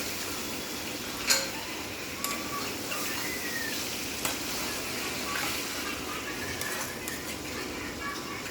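Chicken curry ingredients with tomato are stirred in a frying pan, a soft, fairly faint sizzle with a few sharp clinks and scrapes of a utensil.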